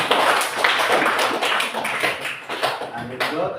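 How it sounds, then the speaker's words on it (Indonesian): Dense applause from a class group fills the clip, a steady wash of clapping with some talk mixed in. "kita tepuk tangan untuk dia"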